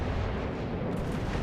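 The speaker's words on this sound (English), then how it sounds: "Shoot, shoot, shoot!" Battleship guns firing in the naval video game World of Warships: Legends, a dense loud booming rumble of artillery that fills the whole brief moment without pause.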